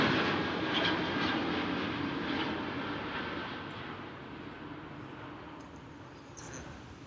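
A fixed-wing airplane passes overhead above a residential area of Chiang Mai, Thailand, a broad, loud engine roar that slowly fades over several seconds.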